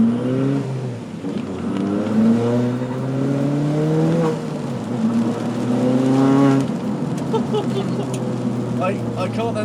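Turbocharged Ford Fiesta accelerating gently, a steady in-cabin engine drone with rising and falling harmonic sweeps running throughout, with road noise underneath.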